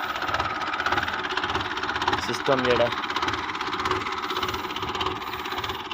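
A Massey tractor stuck in the ground runs with a steady, loud engine drone throughout, while someone speaks briefly over it.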